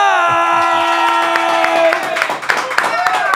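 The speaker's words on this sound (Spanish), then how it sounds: "Señoras y señores, recibamos con un fuerte aplauso a Juan Dalma." A podcast audience cheers, whoops and claps as a guest is welcomed, a burst of crowd noise layered over bright, sustained musical tones that fade midway.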